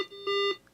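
A Google OnHub router gives a short electronic boot beep, a clean tonal chime with a steady pitch and harmonics. It sounds twice, a brief tone then a longer held one, alone and moderately quiet.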